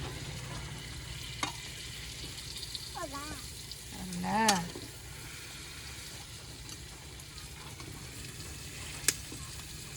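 Potatoes fry and are stirred in a pan over a smoky home kitchen fire, a steady low sizzle with scraping stir strokes, while a child's and adult's voices chatter softly nearby.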